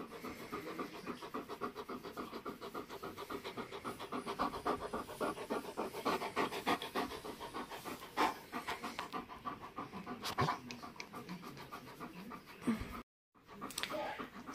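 An Alaskan Malamute about to give birth pants heavily and rapidly, a close, steady rhythm of breaths that continues throughout, with a brief silent break near the end.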